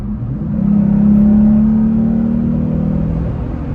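A Jeep Gladiator's exhaust note swells as the throttle opens, a loud, low droning hum heard from inside the truck that rises, holds for a couple of seconds, then eases slightly.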